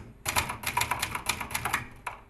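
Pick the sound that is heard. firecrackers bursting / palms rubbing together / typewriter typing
typewriter typing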